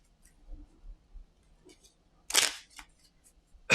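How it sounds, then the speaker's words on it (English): Marvel Champions playing cards being shuffled into a deck at a tabletop, a few soft taps and rustles followed by one loud riffling burst and a final snap. "All right, so let's shuffle these in."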